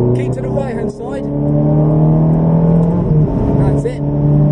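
A Ferrari driven on a race track accelerates with a steady, loud engine drone that climbs in pitch, while an instructor talks over it from inside the car.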